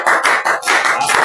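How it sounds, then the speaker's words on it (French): A church congregation applauds for the Lord, a dense, loud burst of many hands clapping together in quick pulses, with no voices over it. "Acclamons pour le Seigneur."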